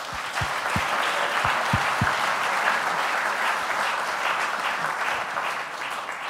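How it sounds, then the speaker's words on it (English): Sustained applause from an audience at the 2018 Tewaaraton Award ceremony, a dense even wash of clapping that holds steady for several seconds, fairly near and full. "Please give them a round of applause."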